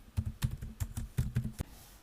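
Keys clatter on a computer keyboard in an irregular run of about a dozen close, crisp strokes while a dashboard title is typed, ending in a short quiet pause.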